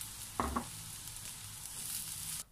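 Bitter gourd (ampalaya) sizzles steadily in a frying pan after sautéing aromatics, with a couple of brief clunks as it is added and stirred near at hand, the broad hiss continuing evenly before cutting off abruptly.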